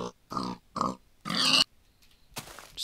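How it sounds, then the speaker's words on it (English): A pig in the video game Minecraft gives a series of short, close grunts and squeals in separate bursts, with brief silences between them and no talking. "this stupid little pig tries to come in here to die"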